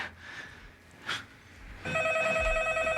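A telephone rings on an outgoing call, a steady electronic ring tone starting after a quiet stretch with soft rustles and a brief breathy sound, continuing loudly to the end.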